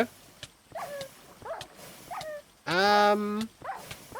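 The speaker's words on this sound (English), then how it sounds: "if I attack Kiyoya, obviously our Hound Dog will start attacking" Hound dog attacking in a Minecraft-style game: a string of short yelps and barks, with one long, loud howling whine in the middle, all fairly close.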